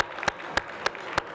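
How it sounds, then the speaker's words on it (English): Several sharp claps ring out at an evenly spaced, slow rhythm over a soft bed of scattered clapping, as an audience at a tribute evening begins a round of applause. "And a round of applause."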